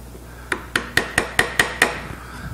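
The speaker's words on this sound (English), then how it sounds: "that's where my chisel comes into play" A wood chisel being struck to clean up the end of a joint, seven sharp evenly spaced taps with a ringing metallic edge, close and loud, then quiet.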